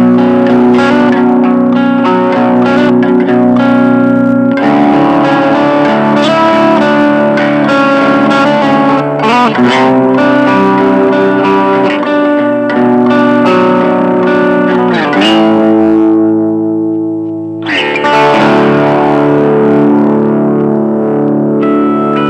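An electric guitar played through a Blackstar Fly 3 small amp with distortion and delay switched on, sounding loud, sustained notes and chords that trail into repeating echoes, the delay tails ringing clearly after the playing pauses.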